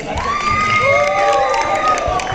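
A wedding crowd cheers and shouts loudly and steadily, with high excited voices and whoops over a dense roar; scattered clapping is mixed in.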